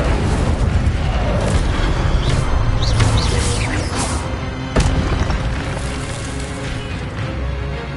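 Incendio fire spell cast in the video game Hogwarts Legacy, a loud booming, crackling burst amid a continuous rush of spell and combat effects at close range.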